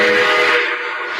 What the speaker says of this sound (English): Wait till it blows that whistle, man.